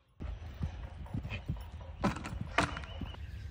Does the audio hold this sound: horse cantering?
yes